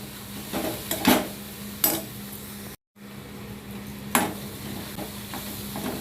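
Tomatoes and okra sautéing in a pan for chutney, with a few clinking, scraping stirs of a utensil against the pan over a low, steady sizzle, close by and alone, with a brief silent dropout partway through.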